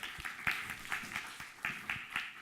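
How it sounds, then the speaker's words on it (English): Sparse, steady clapping from a small audience, with scattered distinct claps repeating across the whole stretch at a moderate distance and no voices on top. "Let's give one more round of applause for all of them."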